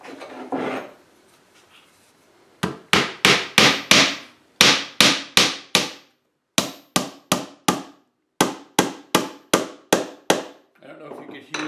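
A hammer drives a nail into wood in quick rhythmic bursts of sharp strikes, about twenty blows in groups with short pauses, close and clear, with faint talk before and after.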